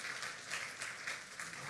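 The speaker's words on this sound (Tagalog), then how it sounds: "Sige, lakas naman natin, palakpak natin sa Lord." A church congregation claps together in a steady, even rhythm, fairly faint and distant, at a worship service with no voices over the applause.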